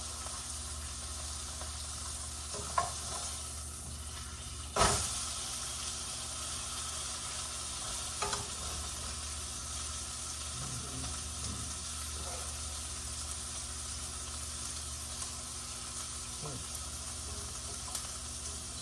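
Steak searing in a hot pan gives a steady, close, hissing sizzle that runs throughout, broken by a few sharp pops and clicks.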